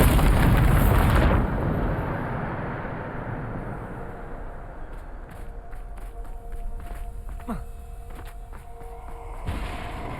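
A Bombarda spell explosion erupts in Hogwarts Legacy, a loud, broad blast at the start that rumbles and fades into a steady roar, followed by scattered clicks and impacts.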